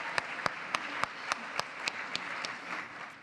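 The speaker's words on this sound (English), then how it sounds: "Let's just take a moment, another round of applause" Applause fills a room at a celebrating-women breakfast, steady and moderately loud, with a few sharper claps standing out in a regular rhythm above the crowd.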